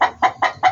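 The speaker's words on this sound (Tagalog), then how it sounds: "Hindi ba manok ba?" A chicken gives four short, evenly spaced clucks, close and clear, with nothing else around it.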